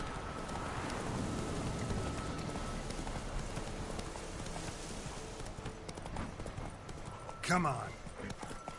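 In a video game, the horse Roach gallops with rhythmic hoofbeats over a steady patter of rain, while someone talks briefly to the horse over the action.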